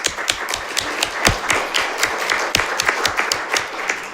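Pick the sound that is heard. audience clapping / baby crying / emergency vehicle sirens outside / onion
audience clapping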